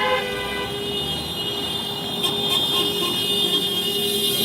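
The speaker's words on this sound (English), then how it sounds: "There's actually some demining cars were" Demining vehicles rolling past a street gathering produce a loud, steady, close roar with sustained droning tones throughout, and a few faint sharp blips near the middle.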